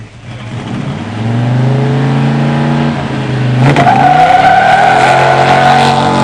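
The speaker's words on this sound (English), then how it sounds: "In the near lane, Craig Konofalski's 71 Demon 344 speed. In the far lane, Mike Holt's 87 Grand National" A 1971 Dodge Demon 340 and a 1987 Buick Grand National launch side by side in a drag race: loud engines rev and accelerate hard, tires squeal briefly, then the roar climbs through a gear change.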